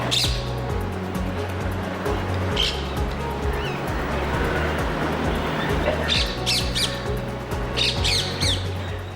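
A large flock of budgerigars squawks in dense, continuous overlapping calls, loud and close, with a low steady rumble beneath and brief sharper bursts near the start and end.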